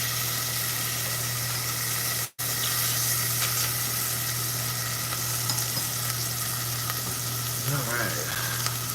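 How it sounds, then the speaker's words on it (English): Slices of mortadella frying in a hot pan, giving a loud, steady crackling sizzle that runs throughout, with a brief cut partway and a few faint stirring scrapes near the end. "We're gonna add our mortadella to the pan. We're gonna get that little crisp going on that one."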